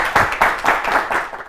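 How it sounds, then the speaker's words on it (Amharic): An audience at a children's school quiz show claps for the students, a short burst of fairly close, rhythmic applause with a few distinct pulses of hands. "እንዴት ደስ እንደምትሉ አጨብጭቡላቸው በደንብ አድርጋችሁ።"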